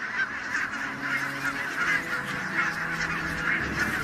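Geese on a Scottish island honk repeatedly in a close, busy chorus. Their calls overlap in irregular bursts, with no voices.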